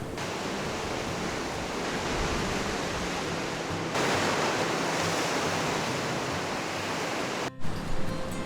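Rough ocean surf churns at Port Campbell on Australia's Great Ocean Road, a continuous heavy wash of waves with a louder surge midway, steady and close with some wind.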